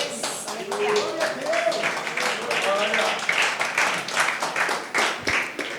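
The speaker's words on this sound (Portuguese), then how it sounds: "Essas palmas aí foi para quem?" A congregation claps along during a Sunday church service, with steady, closely spaced hand claps running throughout under voices and room noise.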